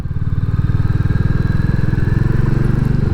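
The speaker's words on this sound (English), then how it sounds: "I think the exhaust sounds nice as it is as standard." A Royal Enfield Classic 350 motorcycle's stock single-cylinder exhaust thumps in a rapid, even pulse, loud and close, idling steadily throughout.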